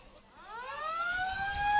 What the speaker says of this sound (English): And there is the siren.